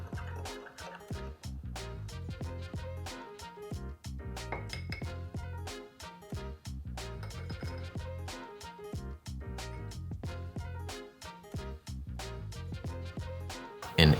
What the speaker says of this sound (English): All right, whisk those together.